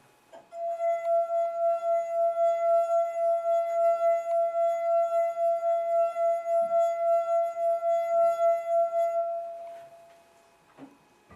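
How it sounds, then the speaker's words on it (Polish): A wine glass with water inside rings with one sustained pure tone, holding steady and slightly pulsing for several seconds before fading, with a faint tap near the end. "Gdy do kieliszka nalewamy więcej wody, wysokość dźwięku obniża się."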